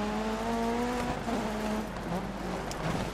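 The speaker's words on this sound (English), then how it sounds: "Oh, we just spun the oxy car out." Rally car in the Dirt 3 racing game spinning out, a steady loud engine drone with high tonal whine and scrubbing tire skid running throughout, no talking.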